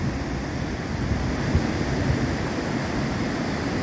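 Steady rushing water from a waterfall and flowing stream in a rainy forest, a dense broadband roar holding constant and fairly loud throughout with no voices.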